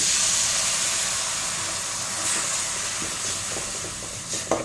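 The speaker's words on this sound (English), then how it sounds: "Now add tomato puree into this." Tomato puree hits a hot pan for a soya chaap masala curry, giving a steady, loud broadband sizzle and hiss that holds throughout with a few small pops and spatters near the end.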